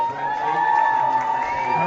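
Crowd cheering at a morning swimming race at the Orkney 2025 Island Games, a sustained distant roar of voices with a whistle-like tone, steady and moderately loud.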